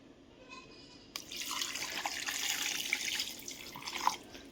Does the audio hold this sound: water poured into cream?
yes